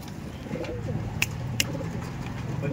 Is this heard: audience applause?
no